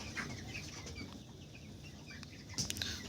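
Chickens on a poultry farm hit by an eye ailment, a quiet flock giving scattered soft clucks with a couple of sharper calls near the end, no voices.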